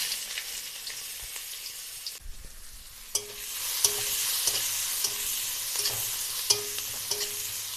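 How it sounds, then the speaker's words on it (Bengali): Nigella seeds and chopped onion fry in oil left over from frying bhola fish, giving a continuous close sizzle broken by sharp clicks of a spatula stirring the pan. No talking. "এবার আমি ওই একই তেলের মধ্যে কালো জিরে ফোড়ন দিয়ে দেব, পেঁয়াজ কুচি"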